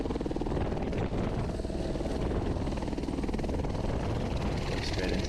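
A helicopter landing in light snow: a loud, close, continuous rotor thrum with a rapid, even chop and a whining engine layered over it, filling the whole stretch.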